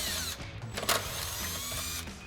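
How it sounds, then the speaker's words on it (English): An impact wrench fitted with a 12 mm socket runs out bolts while installing running boards on a Toyota 4Runner, giving a close, steady mechanical whir with a brief louder burst midway. "we'll grab our 12 mil socket on our impact and run these out real quick"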